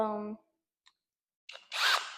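A power drill bores a hole in a food grade 5-gallon bucket: a brief whir cuts off, silence follows, then a loud, harsh grinding burst of the bit biting into the plastic.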